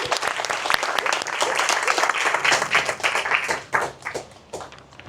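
An audience at a private money lending seminar gives a guest speaker a round of applause, a crowd of hands clapping steadily and fairly close, loosening into scattered individual claps as it dies down.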